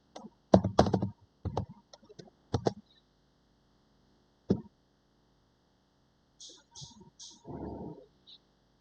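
Keys on a computer keyboard are tapped in a short run of sharp, close clicks, followed by a pause and a few more scattered keystrokes and clicks.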